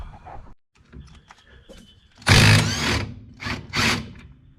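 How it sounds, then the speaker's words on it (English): Pneumatic impact wrench removing a 27mm nut during rear brake work: a loud, close burst of hammering rattle lasting about a second, then two shorter bursts, with quieter workshop clatter before. "I'm going to get my rattle gun and we'll rattle it off"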